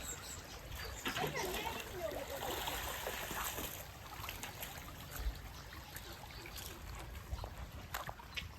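Rainwater running along a village road past farm fields, a continuous rushing, trickling flow with faint splashes, steady and moderately close, with a voice talking over it at times.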